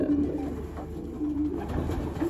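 Champion racing pigeon handled up close, giving soft, low coos over a muffled background of handling and room noise.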